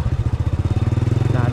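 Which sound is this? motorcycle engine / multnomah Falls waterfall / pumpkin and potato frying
motorcycle engine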